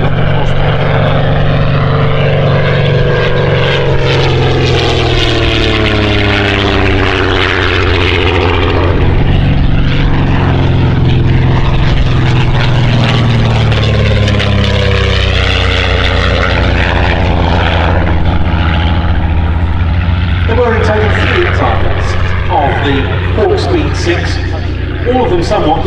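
A de Havilland Hawk Speed Six with a 200 horsepower engine flies past at an air show, its propeller drone and crackling exhaust rising and falling loudly and continuously, with an announcer talking over it throughout.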